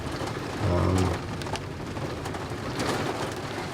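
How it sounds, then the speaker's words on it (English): Rain from a passing storm falls steadily on a campsite, a continuous even wash of drops close by, with a brief low hum near the start and no clear voices. "Right now we're just kind of waiting for the storm to die down a little bit."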